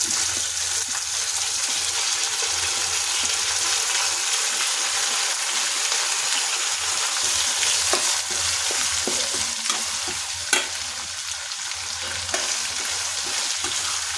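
Onion, tomato and green chilli fry in oil for avalakki as they are stirred, giving a steady close sizzle with scraping stir strokes and a couple of sharper clacks, with no voices.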